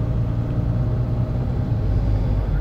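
Skoda Monte Carlo car engine hums low and steady from inside the cabin as an automatic gearbox shifts smoothly through the gears, a continuous close rumble with no talking.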